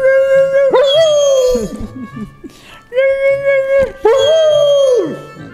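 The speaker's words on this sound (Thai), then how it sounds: "ต้องแซมเปิลให้ดูเนี่ยมันหอนอย่างนี้เลยกลางคืนอ่ะแสบหูเลยอ่ะ" Noah the dog howls at the staircase of a new home at night: three long, loud, close wavering howls, each rising and then trailing off, with brief gaps between them.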